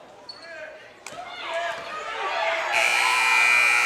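End-of-game buzzer at a girls' varsity basketball game in a gym, a loud sustained blare rising near the end over crowd noise, squeaking sneakers and a bouncing ball.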